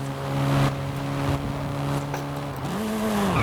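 A car engine in the Forza racing game idles with a steady hum, then shifts pitch with a rising whine as reverse gear is selected on a sim-racing shifter, heard alone and fairly loud.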